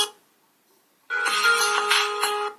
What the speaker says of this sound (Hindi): अगर आपका फोन साइलेंट में भी होगा तब भी बजेगा